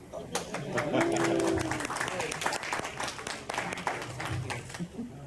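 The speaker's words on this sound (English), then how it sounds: "No pause, no round of applause for George Lucas?" A fan expo audience gives scattered applause for George Lucas, individual claps popping sharply and unevenly, with a speaking voice over them.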